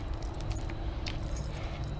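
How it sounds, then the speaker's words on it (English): A bunch of car keys for an old 1986 LTD jangles and clinks as it is handled, a continuous close metallic rattle over a rough outdoor background, with no voices. "Let's grab the right keys here."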